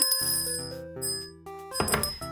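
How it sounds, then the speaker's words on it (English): A focus bell is rung, a bright metallic ding that rings out and sustains in clear overtones, then struck again toward the end, with no one talking. "And the focus bell has been rung."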